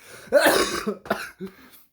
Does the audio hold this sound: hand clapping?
no